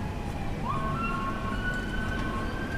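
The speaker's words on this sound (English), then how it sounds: "And I hear sirens." An emergency vehicle siren wails faintly in the distance over steady traffic rumble, heard from inside a car in rush-hour traffic on Whalley Ave in New Haven, Connecticut, with one long rising-and-holding tone and no speech.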